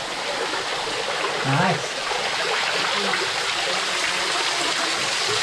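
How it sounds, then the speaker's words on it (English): Water rushing through an 1800s lead mine in the Northern Pennines, a steady broadband stream roar filling the space, loud and continuous, with a brief spoken exclamation over it. "quite a bit of water coming through here"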